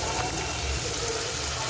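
Water is poured briefly into chilli paneer cooking in a pan, a steady low gushing splash lasting under two seconds with a faint kitchen hiss.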